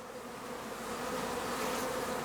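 Honey bees buzz around an open backyard hive in a frontyard bee garden, a dense continuous hum of many wings, close and steady, growing slightly louder, with no voices.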